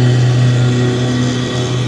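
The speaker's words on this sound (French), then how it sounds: "Je suis en train de regarder le gars tondre la pelouse." A lawn tractor mowing grass drones with a loud, steady engine hum close by, unbroken for the whole short stretch with no talk over it.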